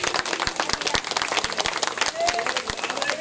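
Crowd of devotees clapping after a bhajan at a Radha Kalyanam festival, continuous moderately loud applause with distinct sharp hand claps standing out, and a brief faint tonal note near the end.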